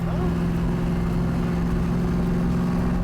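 A Yenko Camaro engine drones steadily as it accelerates through a gear, a loud, continuous mid-low roar from inside the car with no pause.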